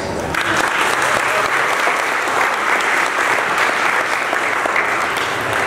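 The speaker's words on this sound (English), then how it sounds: "give them a round of applause" A large crowd at a charity Christmas breakfast gives a round of applause, dense and loud. The sustained clapping holds steady from start to finish.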